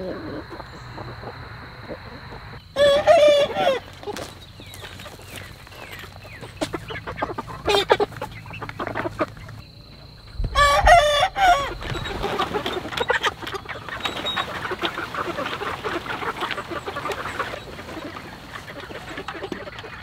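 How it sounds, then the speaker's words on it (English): Poultry calls on a farm where meat chickens are kept: bursts of clucking and quack-like squawks near and at mid distance, with quieter intermittent bird noise between louder outbursts. "Meat chickens are looking good,"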